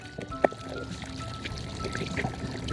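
Water pours and trickles steadily from the outflow of a 1200 gallon per hour pump, a continuous splashing flow with a brief sharper splash early on.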